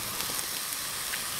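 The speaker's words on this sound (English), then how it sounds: "Is there anything better than garlic and onion sauteing?" Garlic and onion sautéing gently in a little olive oil, a soft steady sizzle and crackle with faint pops, low and continuous throughout, no talking.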